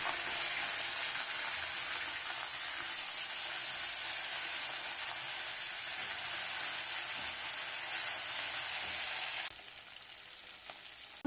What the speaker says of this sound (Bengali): তেল গরম হয়ে গেছে বন্ধুরা,